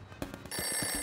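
Telephone ringing after a number is dialed in an animated film, a short electronic ring that starts abruptly and holds steady, close and clear.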